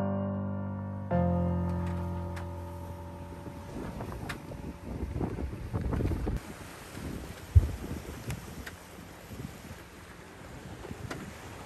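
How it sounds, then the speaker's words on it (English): Strong wind of 20 to 25 knots buffets a sailboat running downwind under jib and full mainsail, a loud rushing gust noise over a low hum, with water sloshing and occasional thuds. "The wind blew 20 to 25 knots almost all the way, so we sailed with the jib and full mainsail."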